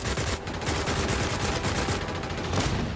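Weapon fire in Fallout 4 In Dreams comes as loud, continuous rapid blasts that fill the whole stretch, dense and close with no pauses.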